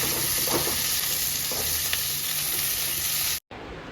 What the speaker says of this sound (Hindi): ये जो 3 हरी मिर्च काटी थी वो भी इसी में डाल देंगे। और इनको सौटे करेंगे।